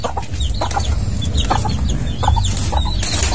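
Several chickens clucking in short, irregular bursts over a low rumbling background, moderately close, with no voices.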